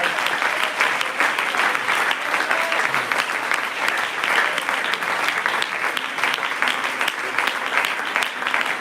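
A church congregation applauding during a worship service, sustained dense clapping from many hands filling the room for nearly nine seconds, with faint voices underneath.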